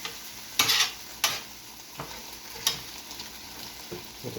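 Beef, onions and peppers sizzle on a Steelmade USA flat top griddle, a soft steady frying hiss broken by a few sharp scraping strokes of a spatula, close and fairly quiet with no talk.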